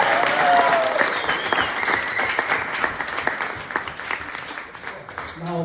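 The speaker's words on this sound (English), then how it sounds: "Round of applause for that." Wedding guests at a reception clapping together, a full burst of applause that starts strong and gradually thins and fades, with scattered claps and a voice near the end.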